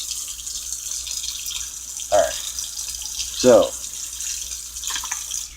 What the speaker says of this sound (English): I cut the hot water back on, the cold water all the way off, hot water only back on, and just giving it a last little rinse